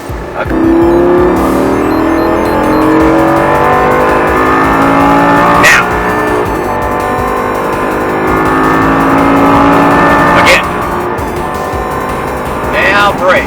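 A Lamborghini engine droning loud and steady from inside the car as it is driven hard on a track, with pitch rising and falling through braking and downshifts, occasional sharp transients, and speech mixed in.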